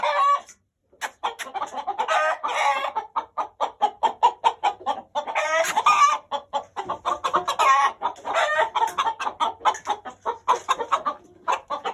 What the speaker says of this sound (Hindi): ये लाल अमरोही मुर्गे का बच्चा है माशाल्लाह से